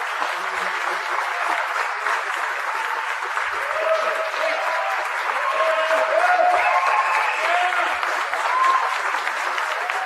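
A roomful of people, including press, applauds steadily for ten seconds, a dense patter of clapping with faint voices and cheers mixed in underneath.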